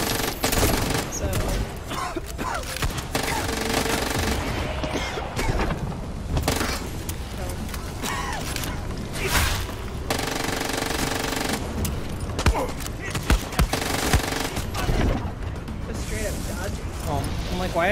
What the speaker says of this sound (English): Why am I using this gun?